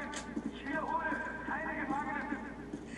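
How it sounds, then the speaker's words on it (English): Enemy footsteps in a Call of Duty game approach as a rhythmic patter of steps, moderately loud and steady, mixed with game sound and some voice-like tones. "But just listen for footsteps."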